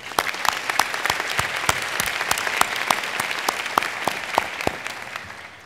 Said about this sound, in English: Let's get another round of applause for your loved ones,